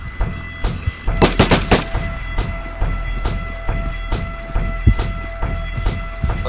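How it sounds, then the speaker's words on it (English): Gunfire in the video game DayZ: a fast burst of loud shots early on, then a run of spaced single cracks and thumps continuing to the end, with no talk. "Shoot your gun or something."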